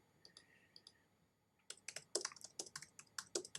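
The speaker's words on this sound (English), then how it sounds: "I'm gonna type something in." Keys clack on a computer keyboard in a streaming setup, a few faint taps first, then a quick run of loud, close, irregular keystrokes with no talking.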